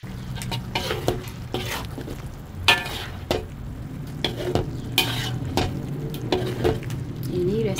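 Spice mix being stirred into Pakistani-style chicken korma in a pot, with repeated scraping strokes of a utensil against the metal, occasional clinks and a steady sizzle underneath, close and fairly loud.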